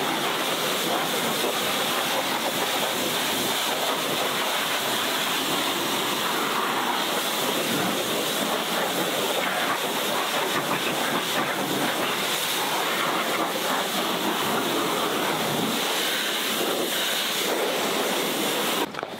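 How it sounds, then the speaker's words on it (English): A pressure washer jet rinsing the engine bay of a Ford Focus RS from a distance, producing a steady loud hissing spray that runs continuously without a break. "I simply use the jet wash at a respectable distance"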